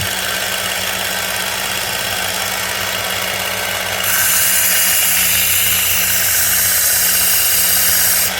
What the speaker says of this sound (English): I'm going to run it through the progression of belts now